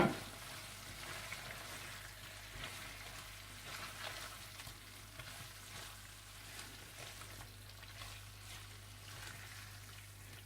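Beef pasanday frying in a pan, a steady faint sizzle and crackle running continuously with a low hum beneath and occasional soft stirring ticks.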